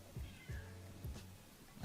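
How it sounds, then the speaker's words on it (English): A cat meows several times in quick succession, the calls short and close but fairly quiet, with a faint background hiss between them. "My cat meow."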